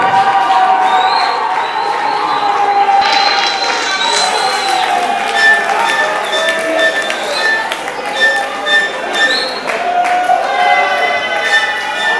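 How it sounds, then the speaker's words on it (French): A festival crowd applauds and cheers continuously and loudly, with whistles and shouts rising above a dense wash of clapping. "nous invitons Monsieur Koko Dioko, Yakoko, sur le podium, sur vos applaudissements."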